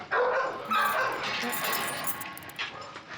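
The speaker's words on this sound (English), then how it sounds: "This canine delinquent is a 5-year-old female Shepherd Rottie mix named Sweetie." A five-year-old female Shepherd Rottweiler mix barks and yips in a kennel of stressed dogs, several loud close barks in quick bursts, with whimpering and someone talking underneath.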